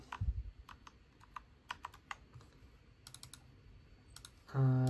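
Someone types on a keyboard fitted with replacement key switches, crisp clicky keystrokes in short uneven bursts, close and fairly quiet, ending in a louder low thump.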